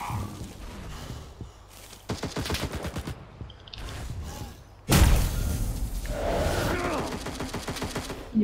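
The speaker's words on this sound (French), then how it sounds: "il y a des gens par contre qui tirent" Gunfire in the online shooter game CRSED comes in rapid bursts and heavy thumps, growing louder partway through, with a voice heard faintly beneath the shooting.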